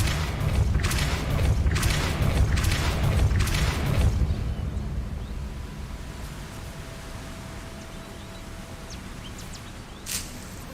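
The Depulso spell in the video game Hogwarts Legacy, a series of about five booming, rushing bursts in quick succession that fade into a quiet ambient hiss, with one more brief pop near the end.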